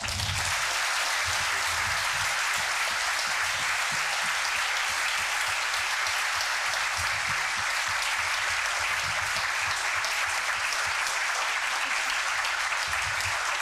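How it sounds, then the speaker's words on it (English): Sustained applause from a lecture audience thanking a climate change leadership panel and its moderator at Uppsala University, a dense, steady wash of clapping that holds at full strength throughout with no break. "Can you keep clapping for our excellent moderator, Doreen Stabinsky?"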